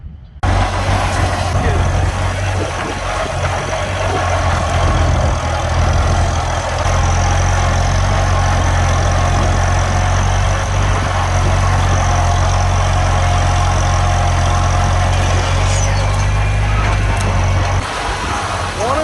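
A Farmall Cub tractor engine runs steadily at close range in a field, a loud low throbbing drone that holds constant for the whole stretch.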